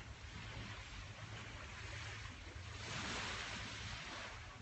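Ocean waves breaking on a shore in Thailand, a steady broad wash of surf with a gentle swell in loudness midway, heard alone without voices.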